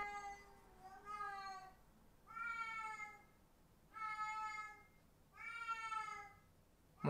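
A cat meows loudly and close by, four drawn-out, wavering calls with short pauses between them, while a traveller is at the end of a trip from Macau to Hong Kong.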